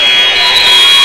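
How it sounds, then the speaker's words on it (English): A basketball game buzzer ends the first half of an Iowa Central college game between the Tritons and Iowa Western. One loud, steady electronic drone fills the whole second. "shot is no good, as that is the buzzer"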